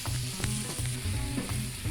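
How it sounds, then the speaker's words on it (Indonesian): Spice paste with bay leaves, galangal and lemongrass fries in hot oil for a spicy snapper-head gulai, a steady close sizzle and crackle with soft stirring scrapes throughout and no talking. "Kita goreng bersama bumbu sampai kering"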